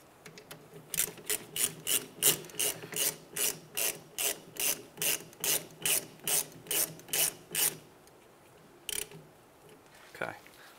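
A hand ratchet snugs 14 millimeter brake bolts on a 2003-2011 Honda Element, giving about sixteen crisp, evenly spaced clicking strokes up close, then a brief pause and two more isolated clicks.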